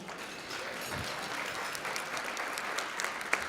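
At a breakfast, a room of people applauds a group of students from a Black student leadership conference, steady mid-distance clapping throughout.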